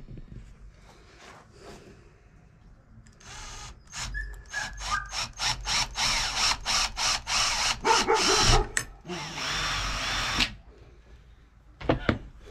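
A screw gun drills a hole through a clamped metal snare part, with a run of short trigger bursts followed by a longer steady drilling pass, loud and close with no voices.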